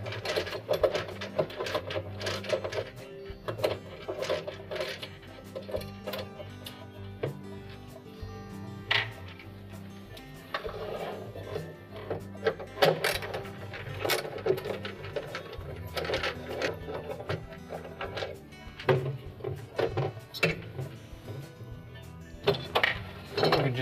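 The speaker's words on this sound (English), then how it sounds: "Now with a 1/4 inch nut driver, we'll remove 2 screws that hold that slide extension" A 1/4 inch nut driver backing out screws from a refrigerator slide extension and end cap, with repeated metallic clicks, ratcheting rattles and small clanks of parts, close and fairly loud, no talking.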